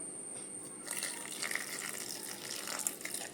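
Water poured into a mixer jar holding soaked urad dal, a faint steady trickle that thickens into a gushing flow partway through, with no voices.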